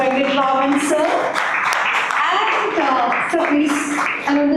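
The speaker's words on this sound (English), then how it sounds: "With a big round of applause, let's welcome on stage Mr. Venkittaraman, sir." Audience applause fills a stage hall as a guest speaker is welcomed at a live career guidance event, steady clapping held at a loud, even level for several seconds with voices mixed in.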